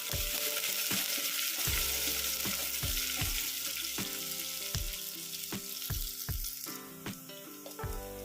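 Onions and dried red chillies fry in hot oil, a dense steady sizzle close by, broken by repeated sharp knocks of a spoon or spatula against the pan.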